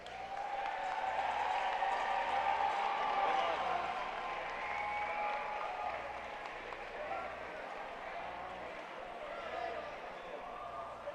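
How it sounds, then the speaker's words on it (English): An audience at a FIRST robotics district event in Dallas fills the hall with sustained applause and crowd noise for finalist teams, loudest early, then slowly easing off while remaining a broad wash. "let's cheer on these teams in finals"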